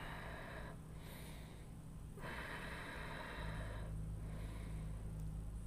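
Slow, steady breathing during a seated yoga twist, soft airy inhales and exhales rising and falling in long waves over a low steady hum, with no talking.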